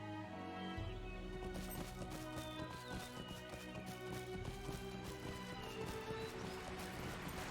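Horse hooves in the video game Lord of the Rings Online, a quick repeated clip-clop of a running horse set within layered game music and ambience, moderately faint.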